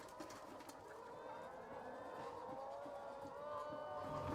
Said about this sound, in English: we still have a lot of live birds